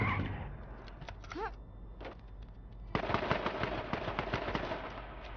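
In the battle royale game H1Z1, a sharp whistling tone and scattered sounds give way to sustained rapid gunfire. The crackling bursts run loud and close for the last few seconds.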